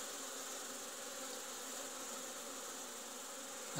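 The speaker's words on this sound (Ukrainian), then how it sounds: "Бджолородини, які в цім вулику, гарно облітаються" Honey bees hum steadily around a hive in an apiary queen-rearing yard during a partial cleansing flight, a dense continuous buzz from many insects, fairly close and even, with no voices.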